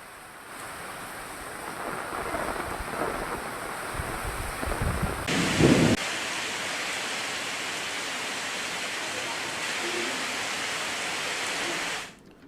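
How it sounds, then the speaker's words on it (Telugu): Heavy rain pours down in Rajahmundry, Andhra Pradesh, as a steady, loud wash of broadband noise. The texture shifts briefly near the middle, then the rain continues evenly before cutting off abruptly. "మండలాల్లోని కొన్ని ప్రాంతాల్లో భారీ వర్షం కురియగా మరికొన్ని ప్రాంతాల్లో స్వల్ప వర్షం కురిసింది"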